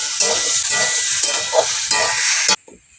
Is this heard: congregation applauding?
no